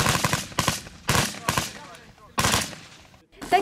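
Automatic rifles fire during military training for future conscripts, sounding as several loud, close bursts of rapid shots separated by short pauses, with echoing tails between bursts.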